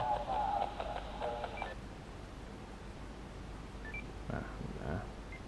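An Icom IC-V80 handheld radio powers on and off: a short electronic tone sequence plays loudly at first, then fades into low background noise, with a couple of faint beeps near the end.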